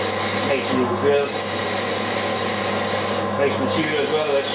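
Small drill running on a dividing head setup in a machine shop, a steady close whirring and rasping with brief grinding swells as it cuts into metal.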